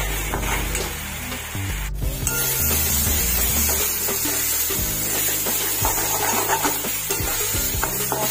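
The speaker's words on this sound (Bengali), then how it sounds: "মশলাটা কষতে থাকবো।" Spice paste for chicken curry being fried down in a pan, with a constant bright sizzle and busy scraping and stirring strokes, close and fairly loud, no voices.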